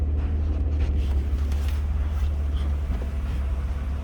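A 1997 BMW Z3 engine idling smoothly after a fuel pump replacement, a steady low rumble heard close by with some wind buffeting on the microphone and no talking.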